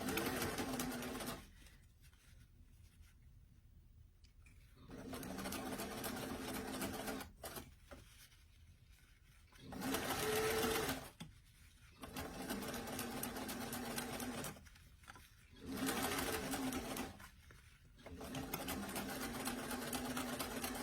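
A sewing machine stitches the seam of a doll-size beach bag, its rapid mechanical whir running in several bursts of a few seconds each, separated by quiet pauses, close and steady.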